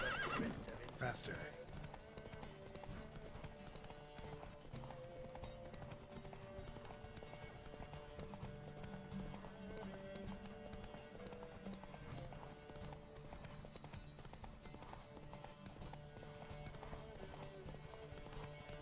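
Horse hooves galloping at speed in Witcher 3, a steady drumming clip-clop running the whole way, with game music and voices over it.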